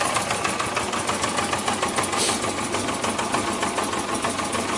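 A four-cylinder Yamaha Diversion motorcycle engine runs close by, short of fuel, with a rough, uneven, sputtering idle that continues steadily with no one speaking.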